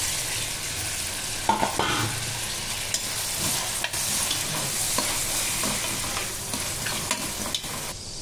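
Carrot, tomato, onion and green chili sizzle in a pan, a continuous close crackle broken by occasional scraping knocks of a stirring spoon.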